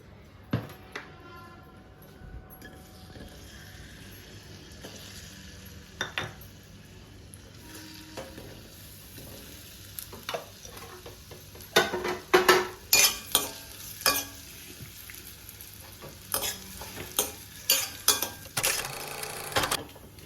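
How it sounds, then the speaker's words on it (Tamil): Dates fry and get stirred in a pan for a dry-nut laddu, a low sizzle under repeated scraping and clinking of a spoon against the pan, growing busier and louder in the second half. "இப்போ லாஸ்ட்டாக பேரிச்சம்பழம் ஃப்ரை பண்ணிக்கலாம்"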